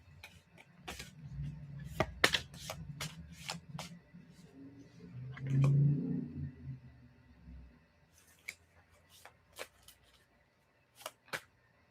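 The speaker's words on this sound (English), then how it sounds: "Let me shuffle these cards here." A deck of cards is shuffled by hand during an intuitive card reading: close, crisp riffles and taps, with a soft voice mid-clip and sparse card snaps after.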